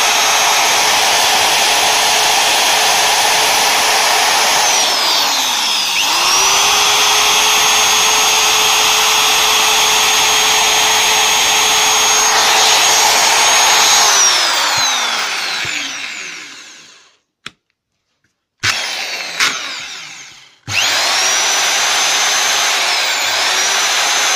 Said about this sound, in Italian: visto che il trapano funziona e funziona anche bene